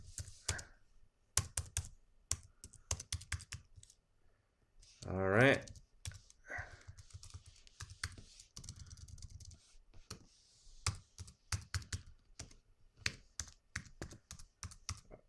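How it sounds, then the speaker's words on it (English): Rapid, scattered clicking of a computer keyboard as many keys are pressed in quick bursts, close and fairly quiet, with someone speaking briefly between runs of typing. "I'm gonna hit every single button on my keyboard really quick"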